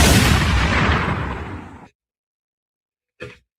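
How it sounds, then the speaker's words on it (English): Gunshot sound effects boom out in a loud, sustained barrage of rapid blasts that fades over about two seconds, then silence, then one more short, sharp shot. "Get the gunshots ready."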